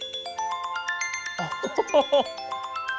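An iPhone ringtone of bright, repeating chime-like tones rising in a looping melody, clear and close; a person briefly exclaims over it partway through.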